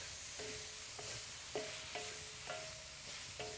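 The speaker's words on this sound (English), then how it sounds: "the vegetables go in, and I stir this almost constantly until they are crisp tender, just barely tender." Vegetables for a Chinese beef stir fry sizzle in a hot pan, stirred almost constantly, with a steady frying hiss broken by about six regular scraping clatters of the utensil against the pan.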